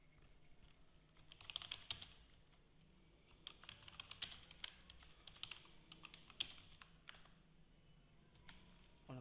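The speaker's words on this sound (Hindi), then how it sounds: "सभ खां पहिरीं टाइटल तव्हां हिते टाइप कंदो।" Typing on a computer keyboard while entering a title in an Excel attendance sheet: quiet, irregular bursts of key clicks at close range.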